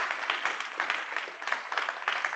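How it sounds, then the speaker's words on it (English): An audience gives itself a round of applause, a steady, fairly faint wash of many hands clapping with no talk over it. "I want you to give yourselves a round of applause"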